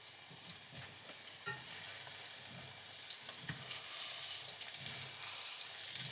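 Vegetables fry in a pan with a close, steady sizzle and crackle that swells slightly over time, broken by a sharp clatter early on, with no talking.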